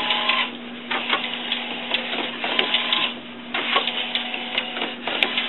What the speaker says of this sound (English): And we're printing out now a photo.